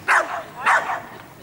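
A dog barks twice in quick succession, close and loud, with a softer yelp trailing after, at an outdoor dog sport competition.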